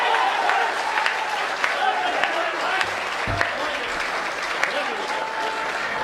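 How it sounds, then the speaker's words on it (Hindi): A crowd listening to a Hindi speech and poetry recital applauds in a steady, dense wash of clapping, with scattered louder claps standing out and murmuring voices mixed in underneath. "तालियां"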